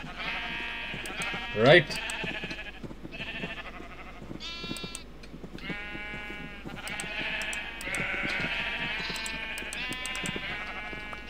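A black sheep bleating in Minecraft, several short wavering bleats in a row while someone talks over them, with one louder sharp sound near the start.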